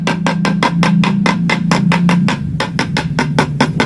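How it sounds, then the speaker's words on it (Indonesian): Hammer blows on a screen printing frame while its mesh fabric is replaced, three frames lined up together; a fast, regular series of loud, close strikes over a low droning hum. "Kemudian dengan palu"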